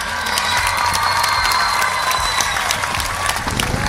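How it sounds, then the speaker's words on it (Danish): Festival crowd at Tønder Festival applauds a band, loud continuous clapping with scattered cheers and whistles close and full throughout. "Og derfor vil jeg gerne have, I klapper ekstra højt af dem."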